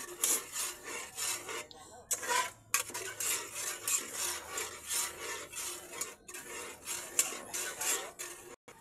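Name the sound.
stirring spaghetti in a pan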